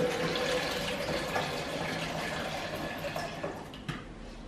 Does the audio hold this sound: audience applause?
no